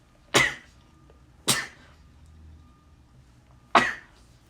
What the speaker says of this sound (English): wait, I'm gonna sneeze.